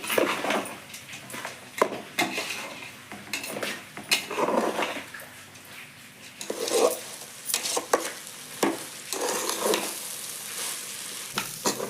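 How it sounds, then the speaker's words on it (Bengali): Rice fries in a pan for matar pulao while a utensil stirs it, giving continuous sizzling broken by frequent scraping and clinking strokes, close and fairly loud. "দেখেন চাউলটা ভালো করে ভেজে নিচ্ছি"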